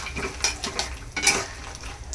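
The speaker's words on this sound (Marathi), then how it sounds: "याला देखील काजू जसं आपण तळून घेतले तसंच त्या पद्धतीने हे तळून घ्यायचं" Almonds and walnuts are fried and stirred in a pan for a dry-fruit chocolate recipe, with a spoon scraping and clinking against the metal in several distinct bursts, close and fairly loud.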